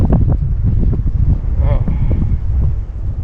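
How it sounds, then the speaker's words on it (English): Gusty wind buffets the microphone outdoors at a rainy solo truck campsite, a steady low rumble throughout with a voice talking over it. "the wind's picking up"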